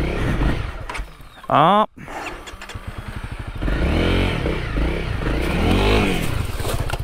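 A Honda CRF250L dirt bike engine revs and roars with brief sharp bursts as the rear wheel spins on a wooded trail, the rider speaking over the noise.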